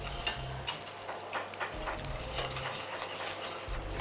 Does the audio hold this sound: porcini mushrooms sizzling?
yes